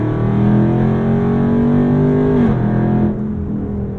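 A Dodge Charger Scat Pack Widebody engine pulls hard with a loud, close, steady roar, then its pitch drops sharply in one quick upshift and settles into a lower, quieter drone.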